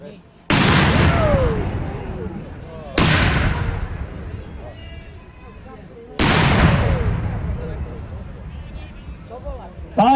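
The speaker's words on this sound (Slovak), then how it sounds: "zahajujeme bitku výstrelom z diela" Three loud cannon shots at a battle reenactment of the Battle for Bratislava, each a sharp close boom followed by a long rumbling decay, spaced a few seconds apart.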